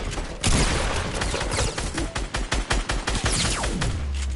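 Video-game gunfire: rapid, loud bursts of automatic shots in close succession, crackling for several seconds with brief gaps between volleys and no talk over it.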